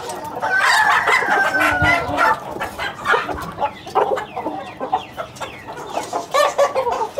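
Roosters and chickens cluck and squawk busily while pecking at mixed grain, with a rooster's crow rising early among choppy, overlapping bird calls close by.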